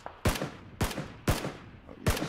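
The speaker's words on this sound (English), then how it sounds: "Gunshots near me?" Gunfire in the battle royale game PUBG: four loud, sharp shots spaced roughly half a second apart, each with a short decaying tail, close and alone.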